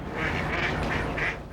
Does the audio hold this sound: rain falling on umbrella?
no